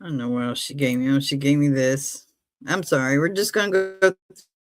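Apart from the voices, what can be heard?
No distinct noise like a dog, phone or traffic.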